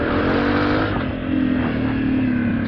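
Engine of a 2023 Honda CRF250F dirt bike while riding, a continuous buzzing drone with small shifts in pitch as the throttle changes, loud and close with no speech over it.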